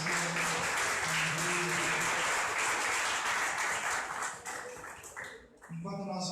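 Loud, sustained applause from a large church congregation fills the space during a worship service, fading briefly near the end before music resumes.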